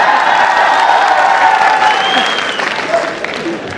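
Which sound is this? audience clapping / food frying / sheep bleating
audience clapping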